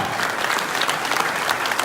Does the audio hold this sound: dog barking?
no